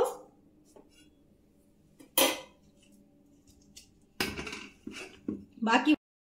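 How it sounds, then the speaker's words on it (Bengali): Cooked rice being added into a pot for khuska pulao, with a few sharp metallic clanks of a spoon against the pot between quiet stretches and a voice speaking. "এবার আমি এখানে আবারও বাকি ভাতটা দিয়ে দেব।"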